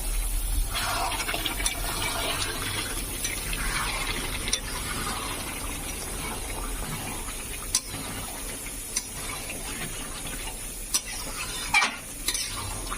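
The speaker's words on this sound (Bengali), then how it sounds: "10 মিনিট পর এটাকে খুলে আবার নেড়ে দিতে হবে।" Mutton curry is stirred in a pot after simmering covered for a Sunday meal. A soft, constant sizzle and bubbling continue throughout, with a few faint scrapes and clinks near the end.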